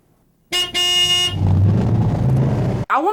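A car in a film passes close with a loud horn toot up front, then a rumbling engine swell lasting a couple of seconds before cutting off abruptly.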